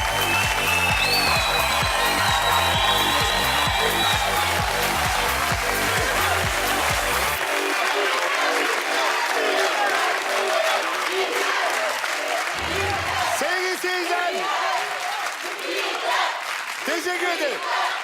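Studio audience on a Turkish TV game show breaks into loud, sustained applause with some cheering, a dense wall of clapping that continues as a host's voice is heard over it.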